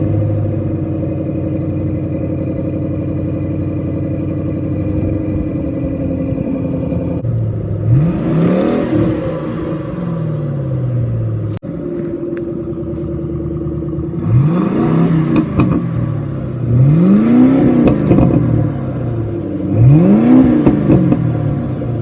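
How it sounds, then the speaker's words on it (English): A Ford Mustang's engine rumbles at idle, then revs repeatedly in loud, close bursts, each climbing and falling back, with a couple of sharper blips near the end and no one talking. "Presenting the Mustang."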